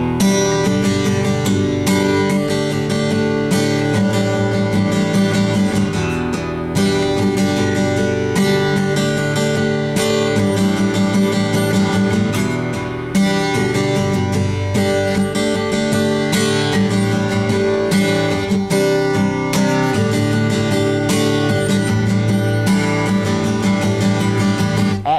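Guitar strums through the repeating verse chord progression of a song, full and ringing, steady and loud with no voices over it.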